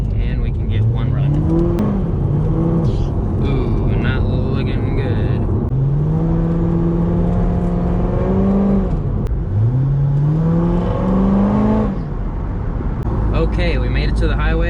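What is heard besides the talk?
supercharged Corvette engine accelerating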